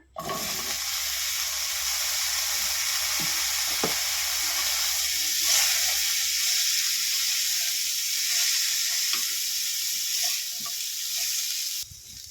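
Fried cauliflower florets go into a pan with oil and asafoetida, raising a loud, sustained sizzle and hiss with scattered stirring taps before the sound cuts off abruptly.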